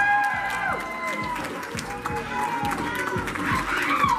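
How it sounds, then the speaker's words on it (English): Wedding reception guests cheer and clap as couples are announced, a lively crowd roar with scattered whoops mixed with talk and footsteps-like thumps. "let's hear some noise for Lorenzo and Ashley A"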